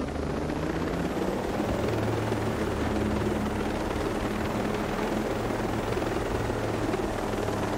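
A helicopter in a video game flies with a steady, loud rotor drone that holds unbroken from start to finish, with no voices over it.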